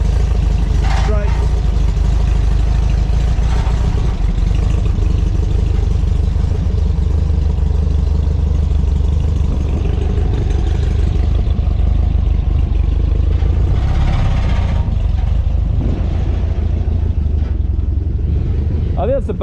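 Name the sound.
1964 VW Beetle engine running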